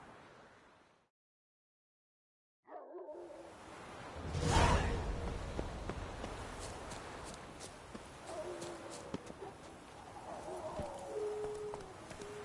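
Hoofbeats of Roach, the horse in The Witcher 3 video game, clopping steadily after a brief silence, with a whoosh and ambient game sounds around them.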